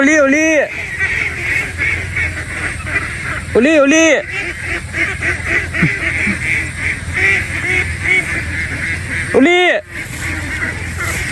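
Ducks on a duck farm give three loud, close, nasal quacking bursts, spaced several seconds apart, over a busy, noisy outdoor background.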